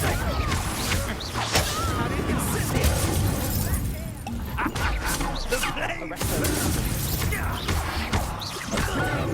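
The Confringo spell in Hogwarts Legacy goes off as a string of loud fiery blasts and crashing impacts amid dense combat noise, with voices over the action.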